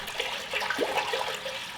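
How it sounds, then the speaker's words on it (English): Water poured into a welded transmission tunnel built for a T56 gearbox in a Volvo, a steady, close splashing rush lasting under two seconds with no talking. "Now what I'm gonna go ahead and do is pour some water in it."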